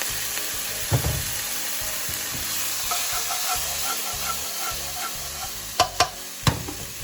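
Prawns chilli dry, a restaurant-style Desi Chinese starter, sizzle and fry steadily in a pan after a splash of vinegar, with stirring scrapes and a few sharp clinks near the end, close and fairly loud.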